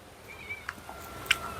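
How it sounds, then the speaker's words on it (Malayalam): A kitten at a Kerala toddy shop gives a couple of short, faint meows amid quiet background ambience, with no talk over it. "അതെ, പൂച്ചക്കുട്ടി വന്നിട്ടുണ്ട് ഇവിടെ."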